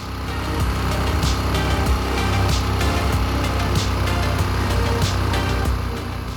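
A car engine idles steadily while its carburettor's air-fuel screw is adjusted, giving a loud, close, even rumble with a faint regular ticking that holds throughout and no talk.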